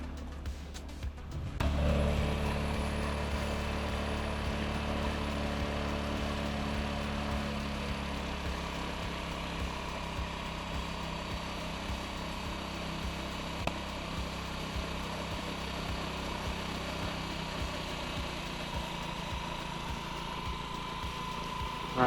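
Honda Ruckus scooter engine, with a repaired fuel line, starting up and settling into a steady idle, a close continuous putter and hum that stays even for the rest of the clip, with no talking.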